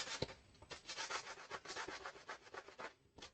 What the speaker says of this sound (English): sand down those edges just a bit